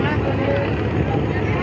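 Passenger launch racing other launches on a Bangladeshi river, its engine recently replaced. A steady, loud engine drone and rushing noise fill the clip, with someone talking over it.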